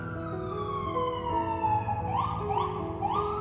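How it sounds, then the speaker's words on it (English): A wailing siren sweeps up and down steadily over a constant low rumble of city traffic, moderately close. "there has been 2 sirens and a helicopter"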